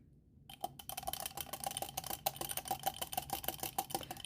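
A spoon stirs a scoop of protein instant coffee into 8 ounces of cold water in a glass, giving a quick, steady run of close, light clinks and taps that carries on throughout.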